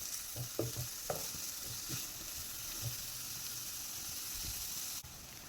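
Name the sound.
vermicelli roasting and stirred in pan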